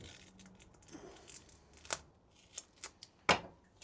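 Double-sided tape being cut with scissors, a few quiet, separate snips and clicks spread across a few seconds, close by and with no talking.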